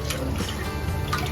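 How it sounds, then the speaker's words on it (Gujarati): Water pours into a cooking pot of mixed dal, a continuous splashing trickle, close and steady throughout, with no talking. "અને માથેથી થોડું પાણી એડ કરી દેવાનું"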